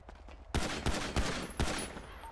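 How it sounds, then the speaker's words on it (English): Video game gunfire: several sharp, fairly loud shots spaced unevenly over a low background rumble, with no one talking. "You guys are shooting me. You're shooting me."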